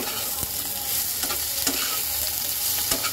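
Large-cut onion pieces and green chillies fry in hot oil for an egg curry, giving a steady bright sizzle with a few soft stirring knocks scattered through it.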